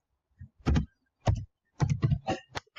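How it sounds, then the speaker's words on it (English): Someone types one-handed on a computer keyboard while entering variable settings in SPSS, giving short bursts of clustered key clicks with pauses between them, close and fairly quiet. "I'm typing with one hand while I hold the microphone."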